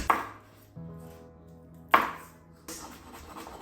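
A knife chops garlic for dumplings and a dipping sauce, a few sharp, close strikes against a cutting board separated by short pauses.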